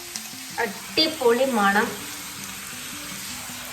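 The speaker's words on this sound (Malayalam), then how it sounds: "ഇനി ഒന്ന് സവാള വാടുന്ന വരെ ഞങ്ങളിങ്ങനെ ഇളക്കിക്കൊണ്ടേയിരിക്കണം" Onions and green chilli sautéing in a pan while being stirred, a soft continuous sizzle under a brief spoken remark, with light scraping from the stirring.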